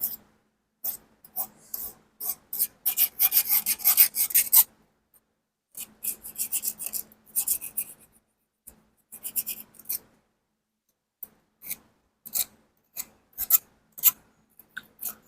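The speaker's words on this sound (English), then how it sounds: "wherever it is sharp, you just file a little bit" A hand file rasps at the sharp cut edges of an air rifle spring. The strokes are short and come in bursts with pauses between them, close by and fairly faint, with no talking.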